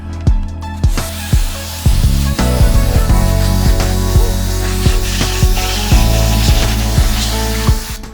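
Loud, continuous hiss of a water spray rinsing a car tire, up close, with a steady rushing tone and occasional brief bursts and changes in pressure throughout.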